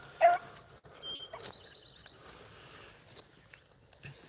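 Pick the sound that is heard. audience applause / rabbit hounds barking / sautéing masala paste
rabbit hounds barking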